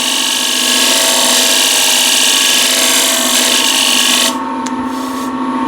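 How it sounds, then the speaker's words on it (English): Big bowl scraper cutting wood on a spinning lathe, a loud continuous hissing and whirring that shifts and softens near the end. "now I need to finish up this detail here, again with a big bowl scraper supporting the back"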